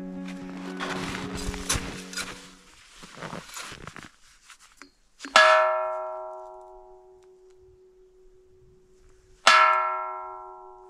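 A bell at a snowy mountain viewpoint, Yunohana Pass at about 2,100 metres on Mount Ontake in deep winter, is struck twice, each strike ringing out clearly and fading slowly, after a stretch of scuffling movement and quiet.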